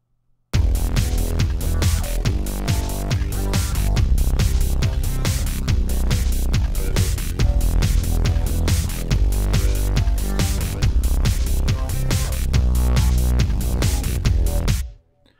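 A full electronic beat plays with a deep, punchy, rough bass layered in, dense drums and low end pounding continuously and loudly for about fourteen seconds before stopping.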